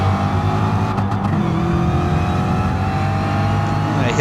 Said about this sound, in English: I hit that rev limiter like that.